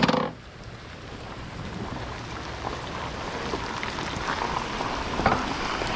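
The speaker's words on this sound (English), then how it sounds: "Sometimes in southeast Louisiana we call this a light rain" Soft, steady light rain in southeast Louisiana hisses and patters across surfaces nearby, a continuous fine crackle of drops after a brief louder noise at the start.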